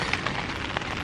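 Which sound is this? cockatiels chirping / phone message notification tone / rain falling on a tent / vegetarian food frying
rain falling on a tent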